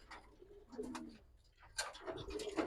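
Giribaz silver-coloured pigeons coo softly at close range, a few low, rounded calls with short gaps between them over a quiet background.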